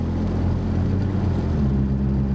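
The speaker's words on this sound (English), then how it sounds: "As you just heard, if you heard that, the clutch is slipping so heavy" Truck engine revving hard with a heavily slipping clutch, a loud, close, steady droning roar with a slight shift in pitch partway through.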